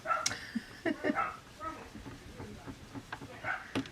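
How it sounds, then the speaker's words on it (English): Several dogs bark and yip in the distance, scattered and overlapping, with faint whimpers among them. "we've got lots of dogs on the go now. Can you all hear?"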